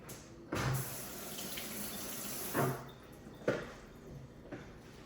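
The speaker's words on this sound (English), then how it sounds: "Rinse my hands again." Hands rinsed under a running kitchen faucet during home cooking, a steady hiss of water with a few knocks and splashes, close and fairly quiet, no talk.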